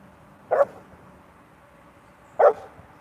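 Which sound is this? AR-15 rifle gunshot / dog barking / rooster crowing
dog barking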